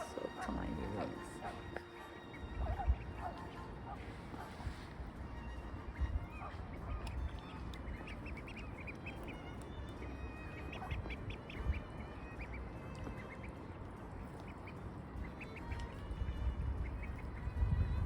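Ducklings preening their feathers and resting close by in grass, giving off repeated soft quacks and honking peeps throughout, close and fairly quiet, with a person talking at times.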